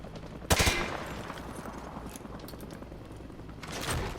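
Gunfire from Call of Duty: Modern Warfare 2 striking a target behind light cover: a loud burst of rapid shots at the start, then a steady rattle of fainter fire, and another swell of shots near the end.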